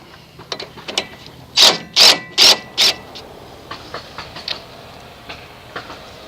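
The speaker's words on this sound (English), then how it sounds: "With the 13mm, remove the sway bar end link." On a 1989 Chevy K1500 Silverado, a 13mm wrench works loose a sway bar end link. Four loud, sharp metallic bursts come in quick succession, followed by lighter scattered clicks and taps, close up and without speech.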